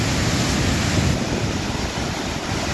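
Niagara Falls roars as a loud, steady, dense rush of water, unbroken across the whole stretch, with no voices.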